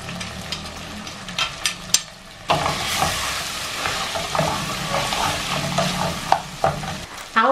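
Four garlic cloves drop into hot oil in a pot for Dominican locrio with pork chops, and after a brief clatter of stirring a loud, close sizzle breaks out and carries on steadily.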